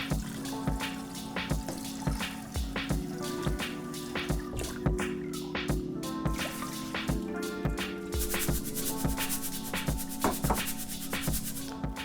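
Raw rice is rinsed by hand in a bowl of water for curry, with steady rhythmic swishing, rubbing and dripping at close range, continuing without pause and with no talking.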